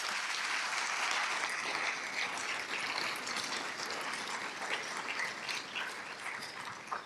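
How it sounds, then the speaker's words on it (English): Sustained applause from a large audience at an awards event, steady clapping filling the space for several seconds, with no one speaking. "Let's give them all a round of applause."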